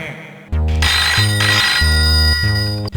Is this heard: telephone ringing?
yes